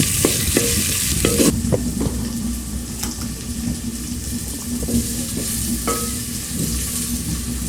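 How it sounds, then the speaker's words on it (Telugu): Onion frying in hot oil with mustard seeds, cumin and curry leaves, a loud burst of sizzle as it goes in, then a steady crackling fry with occasional stirring knocks. "వెంటనే ఉల్లిగడ్డ వేసి వేయించుకోవాలి"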